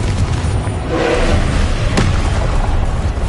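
A Confringo spell explodes during a Hogwarts Legacy battle, a loud, continuous rumbling blast with a sharp crack partway through, close and forceful throughout.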